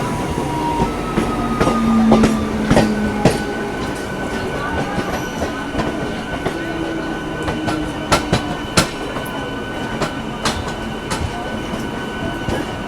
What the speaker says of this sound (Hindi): हम लोग की ट्रेन अराइव कर रही है गाजियाबाद रेलवे स्टेशन पे।